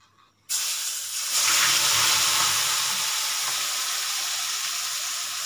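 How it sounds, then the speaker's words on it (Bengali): Lote fish mixture hits hot oil in a wok with a sudden loud hiss, then settles into a steady, dense sizzle that swells slightly and holds close and strong throughout. "আমি সবগুলো আস্তে করে কড়াইতে ঢেলে দিচ্ছি।"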